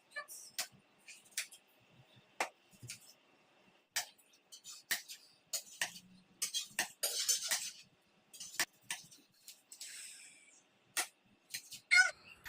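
Onion chopped on a board at home for homemade onion and fenugreek hair oil: a string of crisp, separate knife taps with short pauses between them, close and fairly quiet, and no speech.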